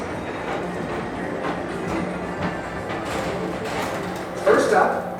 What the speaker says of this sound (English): your express train keeps on rolling through the future